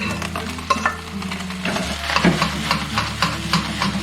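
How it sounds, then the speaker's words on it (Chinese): Cooked rice stir-fried in a wok over gentle heat with corn, carrot and egg, a close sizzle and hiss broken by repeated scraping and tossing of a spatula against the metal, over a low steady hum. "接着我们再下入米饭炒"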